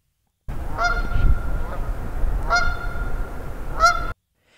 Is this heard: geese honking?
yes